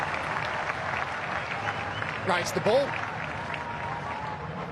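A cricket crowd applauds a fielding effort with steady broad clapping throughout, while a commentator speaks over it.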